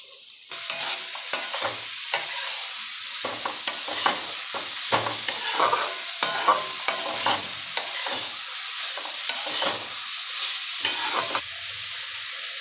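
Chopped ivy gourd frying with turmeric in a hot pan, stirred steadily so a continuous sizzle carries repeated scraping and clacking strokes of the spoon, close and fairly loud with no talking.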